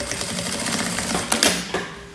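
A sewing machine stitches rubberized nylon for a double-sided tote bag, giving a steady, close mechanical whirr with rapid needle ticks and a few louder clacks near the end.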